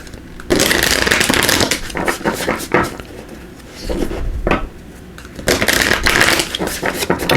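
Tarot cards being shuffled by hand, with repeated bursts of riffling and flicking close up, in several rhythmic rounds separated by short pauses.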